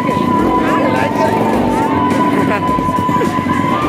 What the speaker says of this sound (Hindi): गाइस वहाँ पे लड़की भी बाइक चलाती है, खतरनाक स्पीड चलाती है।